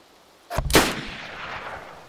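A single loud gunshot from a player's rifle in the survival shooter DayZ, a sharp close crack followed by a long fading echo tail, with no talking.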